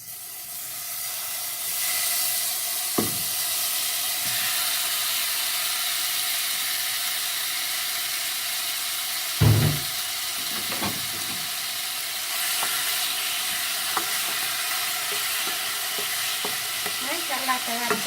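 Shawarma chicken fries and is stirred in a pot, giving a steady close sizzle and hiss broken by occasional scraping stirs and clanks, with no talk.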